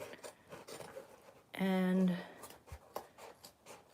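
Spring-loaded scissors cut through the bottom edge of a thrifted hat being trimmed into a pillbox, giving one short, squeaky, buzzing rasp about half a second long, with a soft voice briefly before and after.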